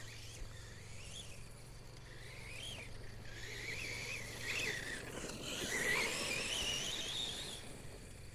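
An Outlaw FTX 3S RC vehicle with a small 3650 electric motor revs at about three-quarter throttle, a rising and falling whine sweeping up and down in several bursts, growing louder and more strained toward the end.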